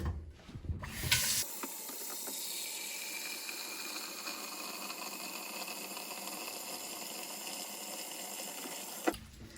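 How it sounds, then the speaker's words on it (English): Tap water runs into a pot holding a potato, a steady hissing splash that starts after a few clattering handling sounds, holds evenly for several seconds, then stops sharply. "Now toss your potato in a pot and start filling it with water."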